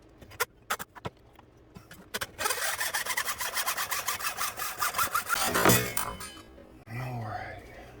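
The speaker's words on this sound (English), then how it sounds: "I'm just going to cut the rudder right here with the hacksaw." Hacksaw cutting through an RC outrigger boat rudder clamped in a vise: a few isolated knocks, then a run of rhythmic back-and-forth rasping strokes, close and fairly loud, ending with a scrape and some handling.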